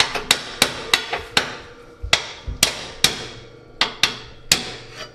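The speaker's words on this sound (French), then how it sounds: "j'ai pas pris un marteau assez gros" Sharp hammer blows ring out on metal while a car chassis is being reinforced, about a dozen strikes in an irregular rhythm with short pauses, loud and close, and nobody talks.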